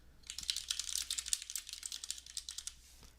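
Fast, crisp keystrokes on a computer keyboard as a line of text is typed, a steady close-up clatter with brief pauses and no voices.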